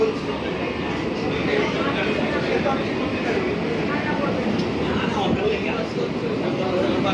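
Steady rumble and rattle from inside an AC local train in eastern India running from Naihati toward Barrackpore, continuous and fairly loud from start to end, with speech faintly mixed into the noise.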